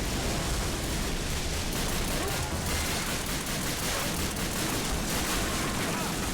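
MG42 machine gun fire in the World War II shooter Call of Duty: Finest Hour, a dense, continuous rattling barrage that stays loud and unbroken throughout.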